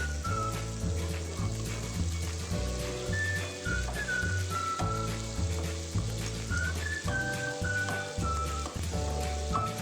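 Onions fry with garlic in oil for poondu kuzhambu, a continuous close sizzle running under a loud, tonal musical background throughout.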